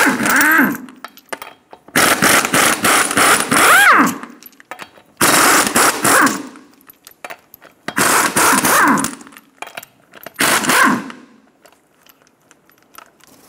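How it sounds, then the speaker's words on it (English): Front wheel lug nuts on a 2000-2006 Toyota Tundra come off under a 21mm socket on an impact tool, in four or five loud, close rattling bursts of a few seconds each, separated by short pauses. "Using a 21mm socket, remove the 6 lug nuts."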